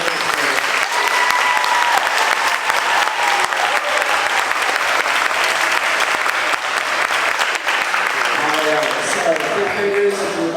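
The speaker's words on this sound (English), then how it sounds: "Once again, a round of applause for our 4th grade" A school audience of parents gives a long, steady round of applause after a 4th grade orchestra concert, dense continuous clapping with a few voices emerging near the end.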